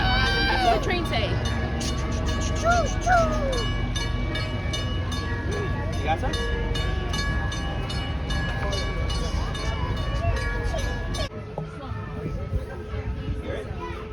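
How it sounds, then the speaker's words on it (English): The Torch Lake steam locomotive train rumbles loud and continuous with a whistle and clanking, while people and someone talk nearby, and the noise drops abruptly near the end. "What does the train say?"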